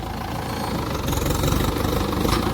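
A tractor engine runs on a farm field, a steady, close, rumbling chug with a rough knocking texture and no voices.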